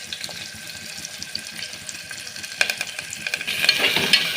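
Green chillies and onions frying in a pan with peppercorns and curry leaves, a close, busy sizzle and spatter that grows louder and hissier toward the end.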